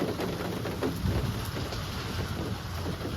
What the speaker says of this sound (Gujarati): વરસાદ આવ્યો બાપા આવ્યો